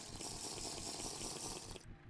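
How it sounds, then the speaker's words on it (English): Water poured or running steadily in a video game as a character drinks, a continuous close splashing flow that cuts off abruptly near the end. "let's drink some water"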